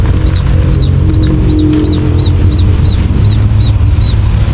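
Rhode Island Red chick newly hatched under a duck hen, giving a steady run of high, repeated peeping cheeps, about a dozen evenly spaced, over low continuous background noise.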